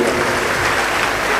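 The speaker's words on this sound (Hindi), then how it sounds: "उनके लिए भी जोरदार तालियां बजाइए" Loud, steady applause from a large audience at a Shiv Mahapuran religious discourse, a continuous wash of clapping with no pauses.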